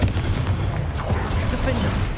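A Confringo fire-blast spell in Hogwarts Legacy erupts in a sustained, rumbling burst of explosive noise, loud and close, with a dense low roar running through the whole moment.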